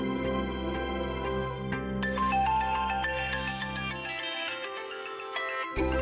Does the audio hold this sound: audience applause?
no